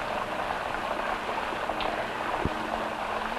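Steady rain hisses softly in the background, a constant wash of patter with a faint low hum beneath it.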